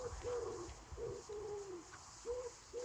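Pigeon cooing in repeated soft, wavering phrases, close and fairly quiet, with a low rumble of background noise beneath.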